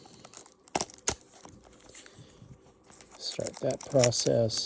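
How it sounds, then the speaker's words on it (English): Plastic packaging on a Tomy Ferrari LaFerrari toy car is cut open with a knife, heard as sharp crinkles and scraping that build into crisp, louder bursts near the end, with someone speaking briefly partway through. "Peel the plastic off"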